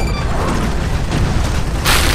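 An artillery shot fires in the video game Honor of Kings, a dense, loud boom that fills the short clip and ends in a sharper burst.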